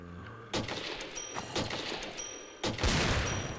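Gunfire against zombies in the Minecraft ZombieCraft mod, a few loud booming shots over a steady noisy background, fairly close.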